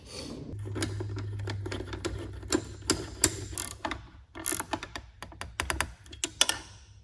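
Bolt being tightened in a Honda K-series transmission case during a five- to six-speed dog box conversion, a quiet run of quick clicking ratchet strokes and small metallic taps in uneven bursts, close up, with no talking.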